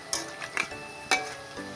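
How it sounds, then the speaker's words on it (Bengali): Langcha sweets made from flour and semolina frying in oil, a soft, steady sizzle broken by a few sharp clinks of a utensil against the pan. "কত সুন্দর বড় বড় হয়ে যাচ্ছে যত ভাজা হচ্ছে ফুলে উঠছে এখনো"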